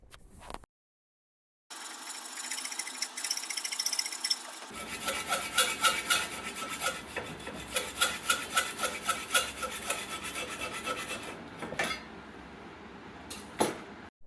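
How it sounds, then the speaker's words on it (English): A hand saw cuts through a two-stroke engine crankcase in a long run of steady, rhythmic rasping strokes, up close and fairly loud, ending with a few scattered clinks. "After about a couple hours of sawing, I had the roughed out crankcases ready"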